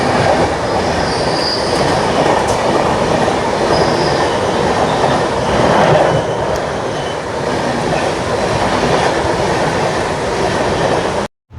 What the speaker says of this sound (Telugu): గూడ్స్ క్రాసింగ్ కోసం మన బండి అయితే పెద్దపల్లి జంక్షన్లో అయితే ఆపింది